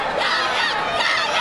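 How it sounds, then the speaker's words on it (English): A boxing crowd at an NABF cruiserweight title bout stomps, beats and claps in a dense, loud, sustained roar of noise and shouting that fills the hall without a break. "The YAHYA crew getting loud. Everybody's stomping, beating, clapping."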